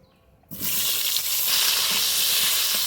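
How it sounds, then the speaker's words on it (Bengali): Cut potatoes, soaked in water, drop into hot oil and burst into a loud, steady sizzle and hiss that keeps going without a break. They are fried alongside bitter gourd for a Bengali vegetarian shukto. "এবার ভেজে নিব কেটে জলে ফেলে রাখা আলু"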